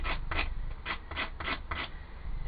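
Hand sanding of a dense, patterned plywood block, six or seven rhythmic rasping strokes in quick succession, close and steady with no talk.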